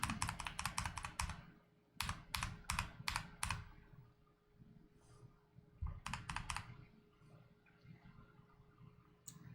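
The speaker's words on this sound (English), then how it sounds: "I'm pressing escape and tab." Computer keyboard keys, including escape and tab, pressed in quick clusters of sharp clicks, with pauses between bursts and a final lone tap, heard close and clear.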